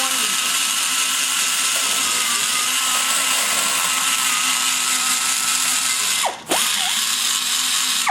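A power tool with a rounded bit trims nasty cutter marks from the side of a workpiece, a steady loud whine with a brief dip and bite near the end as the bit engages.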